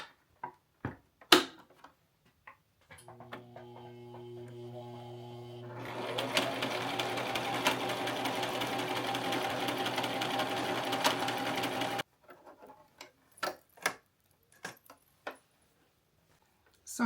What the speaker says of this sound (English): Now let's head over to this sewing machine.